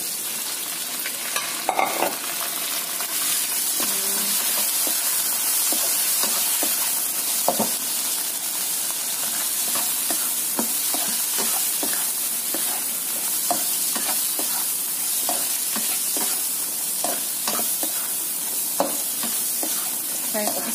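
Prawns stir-fry in a hot pan, a continuous close sizzle broken by frequent sharp scrapes and clacks as the utensil tosses them, with no talking over it.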